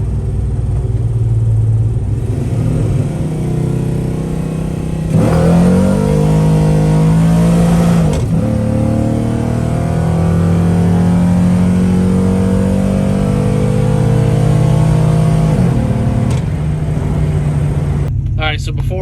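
A 6.0-swapped Cateye truck pulls hard, its engine note climbing through rising harmonics from about 5 to 16 seconds, loud and close from inside the cab, with an earlier steady cruise drone and a shift dip in the middle.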